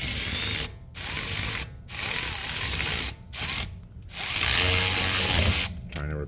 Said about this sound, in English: make sure that your tool or your ratchet is on tighten